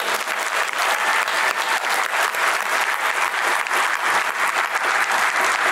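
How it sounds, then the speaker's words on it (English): Loud, full round of applause from a large conference audience, continuous dense clapping held at an even level for several seconds with no speech over it. "So I'd like to give them all a round of applause."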